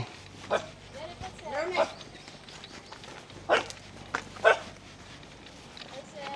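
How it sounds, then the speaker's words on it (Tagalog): A dog barks a few times in short, scattered bursts, mixed with people talking nearby and some footsteps. "may aso."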